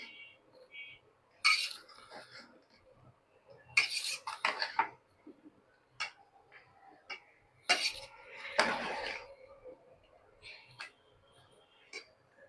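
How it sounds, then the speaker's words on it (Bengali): Rohu fish curry with potato, pointed gourd and yardlong beans being stirred in a pot, with scattered clinks and scrapes of a metal spoon in irregular bursts and quiet pauses between them. "আমি এখন এই তরকারিগুলো নাড়াচাড়া করে দিই।"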